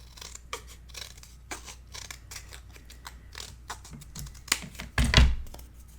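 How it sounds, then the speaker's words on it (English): Scissors snip through paper scraps being trimmed narrower for a mini album craft project, a string of close, crisp cuts at a steady rhythm with a louder rustle near the end. "Just need to cut it narrower."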